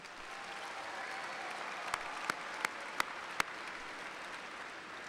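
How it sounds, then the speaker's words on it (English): Applause from the crowd at the Como Park Senior High School 2018 graduation in St. Paul, a steady distant patter of many hands, with a few sharp nearer claps standing out toward the middle. "Let's give them all a round of applause"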